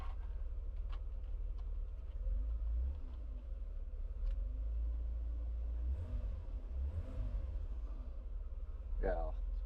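A Mercedes W124 engine idles with a low, steady rumble close by, swelling briefly a couple of times, while people talk quietly over it.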